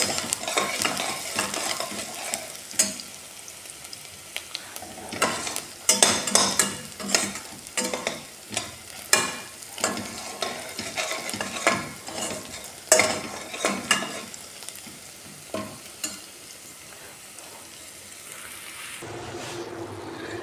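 Minced meat stir-frying in a hot pan: a steady sizzle broken by repeated scraping strokes of a spatula against the pan, loud and close, with no talk.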